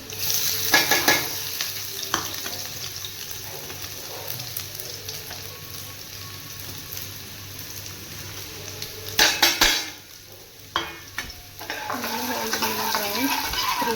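Cumin and garlic frying in hot oil in a pan, with a steady background sizzle, metallic scraping stirs and clanks of utensils against the pan, loudest in short bursts, no speech.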